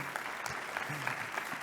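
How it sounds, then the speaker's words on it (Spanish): An audience at a Microsoft AI conference plenary applauds in a brief, steady wash of many hands clapping, with a voice briefly audible over it. "Un aplauso, Norberto."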